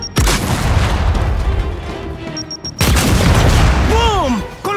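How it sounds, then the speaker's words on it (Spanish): Grenade explosions in the video game Gears 5: two loud, booming blasts about three seconds apart, each followed by a rumbling tail, with a bird-like chirping whistle near the end. "mantén la cabeza agachada y lanza la granada a ciegas"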